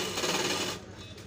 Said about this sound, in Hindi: दो तीन सिलाई मार लीजिएगा, इससे क्या है लूप मजबूत रहेगी